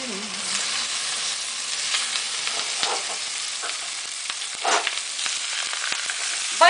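Stuffed chard leaves sizzle and crackle steadily in a pan of butter and olive oil, a loud, close frying hiss with occasional sharper spits and stirring sounds.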